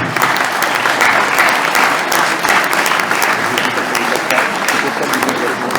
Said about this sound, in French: On applaudit M. Lesage.